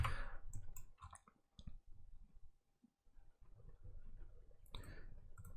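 A computer mouse clicks during 3D simulation and rendering work, a handful of soft, close clicks scattered irregularly against near silence.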